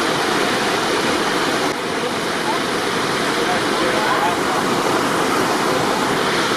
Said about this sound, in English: that's the water going in the donut